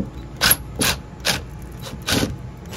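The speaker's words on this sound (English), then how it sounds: "So now I'm going to take that bottom screw and the hinge and just take it out." Screw being backed out of the hinge on an RV entry door, a series of five or six short ratcheting, scraping bursts at a steady rhythm, close and fairly loud, with no talking.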